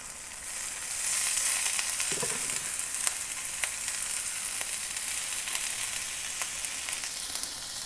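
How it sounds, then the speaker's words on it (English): Steady hissing sizzle of chicken breast and shrimp frying with peppers in a hot skillet, continuous and close, with no talking. "Your sizzling chicken and shrimp."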